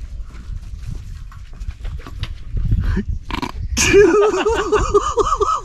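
A voice imitates a revving two-stroke engine, rising and warbling buzz after some shuffling and animal-like grunts.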